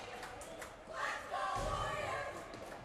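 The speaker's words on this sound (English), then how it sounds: "Warriors fans cheering for them here in the stands as they go up 1-0" Warriors fans cheering in the stands at a hockey game against Waukesha as their team goes up 1-0, a broad crowd roar that swells midway and holds steady, moderately loud with no talk over it.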